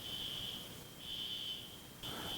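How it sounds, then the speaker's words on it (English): A faint, high electronic tone from a water testing alarm beeps in long steady pulses with brief gaps, sounding from a distance in a quiet room. "that's my water testing alarm going off"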